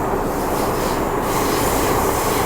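An MTR R40 subway train rumbling steadily along the rails, a continuous loud rolling noise with faint wheel squeal, no voices.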